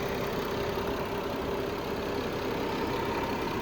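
A 2026 BMW M440i with a 3-liter inline six idles steadily, a close, constant engine hum and hiss with no pauses and no voices.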